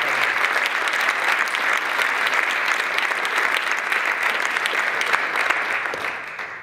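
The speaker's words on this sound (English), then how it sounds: "Let's give him one big, great round of applause." A crowd at a high school football signing day event gives a long, dense round of applause that holds steady, then fades slightly at the end.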